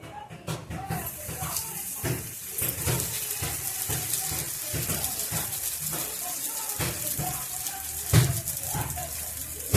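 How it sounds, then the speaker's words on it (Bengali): Spinach parathas flavoured with ajwain and fennel, brushed with a little oil, fry on a hot tawa with a soft, steady sizzle and occasional clinks and scrapes, faint and close. "এবার আমি পরোটাগুলো ভেজে নেবো"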